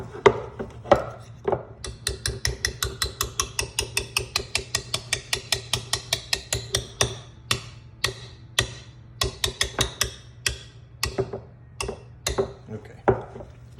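A spoon beats thick spaetzle batter in a bowl, producing rapid, regular knocking taps in a long run, then slower irregular strokes, all close and distinct over a low hum.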